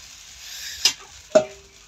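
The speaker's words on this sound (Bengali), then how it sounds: "এখন সে ছিটা রুটি বানাচ্ছে।" Chita ruti, a rice-flour bread, cooking on a clay stove: a quiet background hiss broken by two sharp sizzling bursts, as if batter hits the hot pan, each fading quickly.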